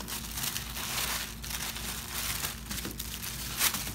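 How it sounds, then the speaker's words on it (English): Plastic wrap on a limited edition Elvira 35th anniversary makeup palette from Lunatic Cosmetics Lab being torn open, a steady close crinkling and crumpling that runs throughout with a sharper rip near the end. "I'm just gonna tear it open"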